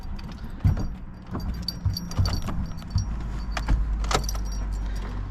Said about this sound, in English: Okay, so key in the ignition.